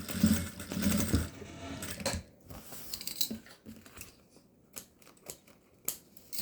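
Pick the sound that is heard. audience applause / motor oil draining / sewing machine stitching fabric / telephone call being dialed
sewing machine stitching fabric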